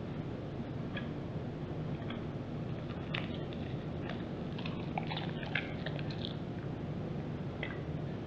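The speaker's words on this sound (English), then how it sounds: "You get to chew the gum." Several pieces of gum are chewed up close: soft, wet squishing and clicking mouth sounds spread sparsely over a steady background hiss.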